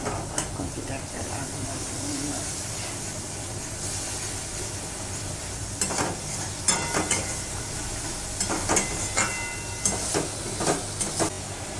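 About a spoonful of ginger hits a hot pan while cooking a rohu fish curry made without onion or garlic, giving a steady hissing sizzle with stirring scrapes close up, under a person talking.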